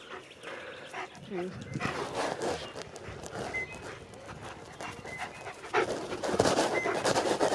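A rescue dog pants rapidly and steadily close by. The quick breathing continues throughout, with a brief whimper. People talk over the panting.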